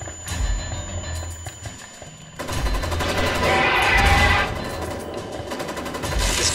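Sustained automatic gunfire rattles through a Ghost Recon Wildlands firefight in the Predator Hunt mode, loud bursts running continuously over a background of game noise.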